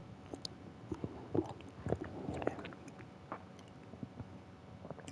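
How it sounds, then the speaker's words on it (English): A person chews food close to the microphone, with irregular soft wet bites and small clicks over roughly five seconds and no talking. "Let me finish chewing."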